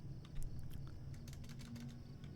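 Computer keyboard typing while entering a chat command in LOTRO: a short burst of soft, quick key clicks, close by, over a steady low background hum.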